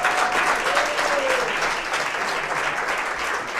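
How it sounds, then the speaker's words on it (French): Audience applause at a French television gathering, a dense, steady wash of clapping from a crowd, loud and sustained throughout with a faint voice briefly heard beneath. "Vous pouvez encore applaudir quand même"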